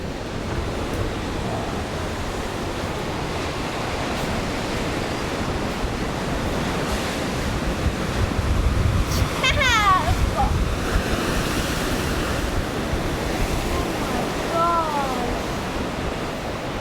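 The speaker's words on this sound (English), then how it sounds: "I hope you can hear me with these massive crashing waves behind me" Heavy ocean surf on South Africa's Garden Route coast roars continuously close by, a broad rushing wash with wind buffeting the microphone and a few faint bird calls.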